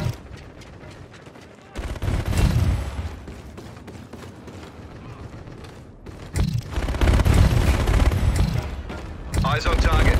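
Gunfire from a scorestreak in the video game Call of Duty Infinite Warfare, heavy bursts of rapid shots and booms that come in several loud waves over a constant battle rumble, with radio-style voices talking in between.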